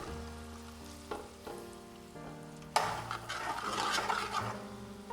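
Finely chopped onions dropped into hot oil in a pan for a traditional chicken curry, a sudden loud sizzle rising after a few quieter kitchen clinks and continuing steadily.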